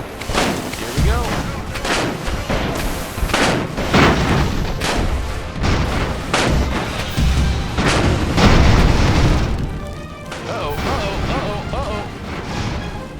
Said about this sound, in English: And then you're just gonna drop bombs from overhead.